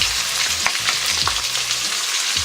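Ginger garlic paste fries with chicken in a hot pan for chicken kulambu, giving a steady close sizzle with occasional stirring scrapes and clicks, with no talking.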